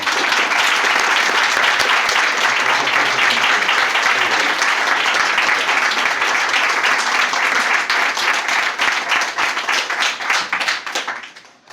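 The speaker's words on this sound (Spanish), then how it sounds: "vamos a aplaudirle si os parece bien" A roomful of people clapping at a talk, loud and sustained for around eleven seconds, with a few faint voices mixed in before the applause thins and fades away at the end.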